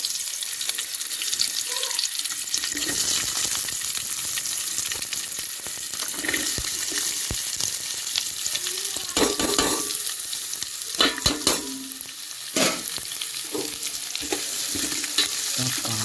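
Onion and blackening garlic frying in a pan for a cashew-seed vegetable dish, a steady close sizzle throughout with scattered scraping and stirring clatters, no talking.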